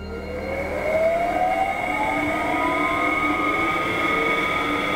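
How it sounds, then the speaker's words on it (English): A wood lathe turns at 800 RPM while a gouge hollows out a bowl, giving a steady whirring with rising and sliding tonal whines from the cut, continuous and fairly loud for the whole stretch. "Okay, so I shall just continue hollowing the bowl out now."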